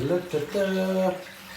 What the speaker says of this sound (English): I'm going to try the bath outlet now, which is over here.